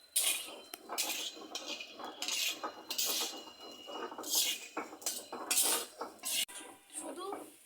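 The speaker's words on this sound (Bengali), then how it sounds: "আপনারা কীভাবে ভাজতে হবে নেড়ে ছেড়ে ভেজে নিতে হবে।" Soybean chunks stirred and fried in a pan, with repeated metal spoon scrapes and clinks against the cookware in uneven bursts, close and fairly clear.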